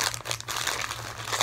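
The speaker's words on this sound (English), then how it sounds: "In a plastic bag, so I'm trying to be careful to not cut whatever might be inside of it." A plastic bag crinkles and crunches as it is carefully cut open to unpack a gift parcel. The crackling comes close and continuous in irregular bursts, with no talking.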